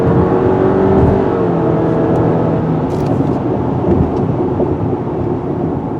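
A 2020 Subaru Outback Limited with a CVT automatic accelerating, a steady loud droning engine and road roar that holds an even pitch throughout, heard from inside the cabin with no talking.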